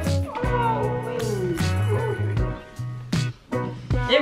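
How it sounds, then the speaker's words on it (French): A small cat meows several times up close, a drawn-out, wavering cry followed by shorter, sharper mews with brief pauses between them. "Oh là là, qu'il est beau ce petit chat."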